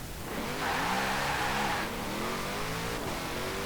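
A 1996 Nissan 240SX Formula Drift car with all-wheel drive in Forza Horizon 4 revs loudly and continuously, its engine note rising and falling with faint tire squeal throughout.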